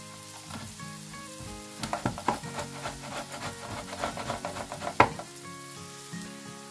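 Sofrito fries in a pan for a creamy rice with clams and squid, sizzling steadily under irregular scraping and stirring clatter with a few louder knocks, and no voices.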